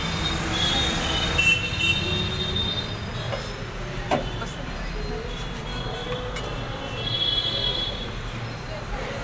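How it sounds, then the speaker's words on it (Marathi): A Pune Metro train pulls into the elevated PCMC station, a broad steady rumble with rail squeal and a high whine running throughout at moderate, fairly close level, with faint voices in the background. "मेट्रो आली"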